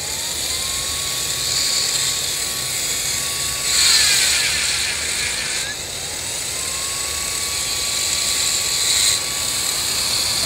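Small electric motor powered by a solar panel, a steady whining hum with a tone that rises and dips twice, running alone at moderate loudness.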